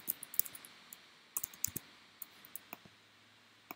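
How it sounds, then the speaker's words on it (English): Soft, irregular keystrokes on a computer keyboard, faint and close, tapping out a short burst of text with small pauses between clusters of clicks. "Let me just type that out for you."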